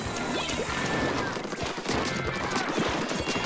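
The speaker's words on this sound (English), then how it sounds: "Uh-oh, airstrike." Airstrike explosions in Splatoon 2 on Nintendo Switch, heard as a dense, continuous barrage of crashing, crackling blasts that stays loud throughout.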